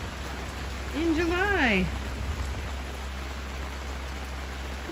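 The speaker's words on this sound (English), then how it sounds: "it is absolutely pouring down rain" Heavy rain pours down steadily near a log boom in July, a dense continuous wash of noise with a short burst of speech partway through.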